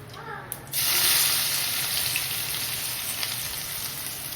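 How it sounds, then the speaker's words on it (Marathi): Cumin and mustard seeds with onion hit hot oil, bursting into a loud hissing sizzle after a short quiet start, then settling into a steady crackle. "त्याच्यामध्ये तेल घालायचं, जिरं घालायचं, मोहरी घालायची थोडी आणि कांदा घालायचा"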